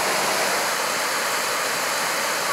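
Water runs steadily from a tap over a Samsung Note 9 phone being washed, a loud, continuous hiss and splash with no break.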